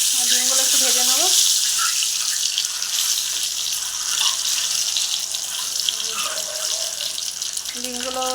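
Eggs frying in oil in a pan give a steady, loud sizzling hiss throughout, with a voice speaking briefly at the start and again near the end.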